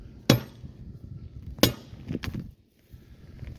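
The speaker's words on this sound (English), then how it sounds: "Just with a bigger hammer." Two sharp metallic strikes from a bigger hammer on the fouled-up foot latch of a Racor 36D railroad switch stand, spaced over a second apart, followed by a few lighter clinks outdoors.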